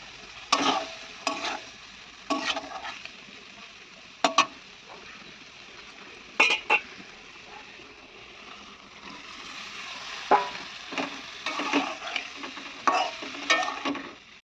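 Drumstick stem and boiled potato curry with chili and turmeric cooks in a pan, softly sizzling under intermittent scraping stirs of a spoon, quiet and close with no voices.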